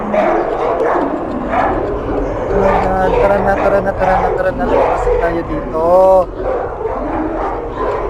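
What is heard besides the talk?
video game creatures sounding like dogs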